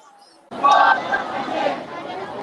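Protest crowd gathered outside the White House in support of Cuba, a loud babble of many overlapping voices rising suddenly and holding steady, with shouts in the mix.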